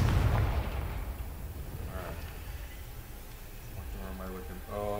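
A Confringo blast spell goes off in the video game Hogwarts Legacy, a loud booming burst at the start that rolls off into a rumbling tail, with a voice speaking briefly near the end.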